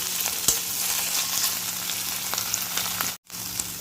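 Ginger garlic paste fries in hot oil in a pan for Mangalore-style chicken sukka, a steady close sizzle with a few stir clicks, briefly dropping out near the end.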